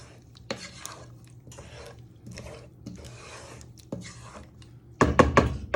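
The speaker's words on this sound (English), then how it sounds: "So you're stirring it in so the flour and then your thyme have stuck to the bottom" Flour and thyme are stirred in a pan for a steak and ale pie filling: close scraping and knocking strokes in separate bursts, with a louder clatter of the utensil against the pan at the end.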